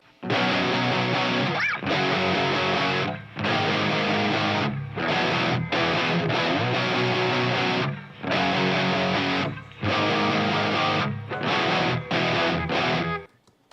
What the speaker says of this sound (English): I'm gonna track my second guitar, which is the Les Paul Studio with the Friedman amp.